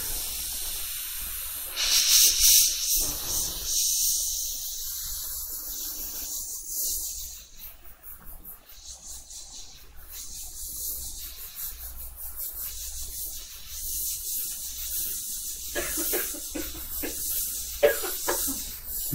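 An airbrush sprays paint with a steady, close hiss that runs almost without pause, changing slightly in strength as the trigger shifts, with no talk over it.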